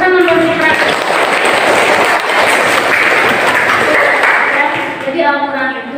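A classroom of students claps for a classmate, a lively, loud burst of clapping that fills most of the stretch, with voices and chatter around it at the start and end.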